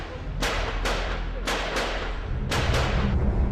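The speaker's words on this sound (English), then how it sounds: "And then suddenly we heard more gunfire." Gunfire at the Taj Hotel during the 2008 Mumbai attacks: several sharp, loud single shots in an irregular sequence, some paired close together, over a steady low background rumble.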